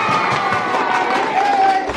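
Cheering and clapping from a crowd of schoolchildren at an inter-school quiz competition, bursting out after a correct answer; a lively mix of claps, shouts and whoops, with a sustained tone running underneath.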